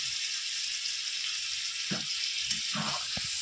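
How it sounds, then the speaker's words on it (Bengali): Fish oil chochchori fries in a pan with a steady, soft sizzle throughout. A few stirring scrapes and a sharp tap of a utensil come near the end. "মাছের তেল চচ্চড়ি আমার ভাজা ভাজা হয়ে গেছে।"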